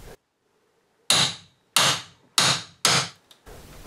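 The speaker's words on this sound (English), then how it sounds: "I'll also start prying slightly away from the siding until the casing finally gives up" Wooden window casing pried away from house siding with a hammer or bar: four loud, close, sharp cracking knocks with short splintering tails, evenly spaced after a brief silence.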